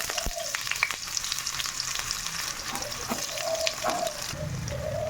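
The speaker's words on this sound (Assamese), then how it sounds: "পিঁয়াজ ভাজি আছোঁ।" Onions frying in hot oil with cumin seeds in a pan, giving a continuous close sizzle with occasional clinks and stirring sounds, moderately loud and with no voice.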